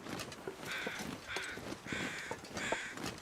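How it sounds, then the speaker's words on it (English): Crows outdoors give a run of four raspy caws at a steady pace, fairly near, with light background rustle between calls. "I mean, these are not the super busy crows."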